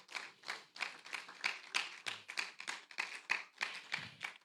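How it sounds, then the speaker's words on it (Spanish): A church congregation claps in a quick, steady rhythm, many hands striking together. The applause is soft and fairly distant and carries on for several seconds. "Denle un aplauso al Señor"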